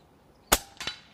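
An AirMaks Krait PCP air rifle firing: one sharp, close crack followed a fraction of a second later by a second fainter snap, with near silence around them.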